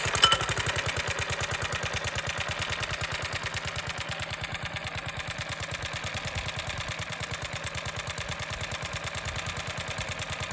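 A lawn mower engine runs steadily after the clutch is engaged, a rapid, even putter that stays close and constant throughout.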